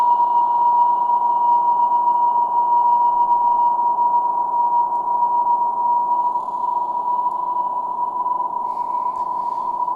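Dark, pitch-shifted reverb tail from Airwindows Dual Matrix Reverb on a sustained mid-range note, with interblend set to zero for darkness, holding a steady drone near one tone with almost no high-end shimmer across the whole stretch.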